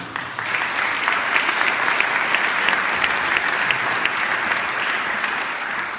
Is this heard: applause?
yes